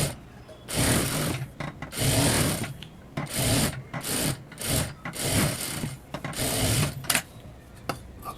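A sewing machine stitches along the lining edge of a boat-neck blouse, running in bursts of steady whirring with brief pauses between runs, close and fairly loud, with no talking.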